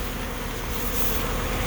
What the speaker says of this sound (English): So here's the source of all the bees raiding the supers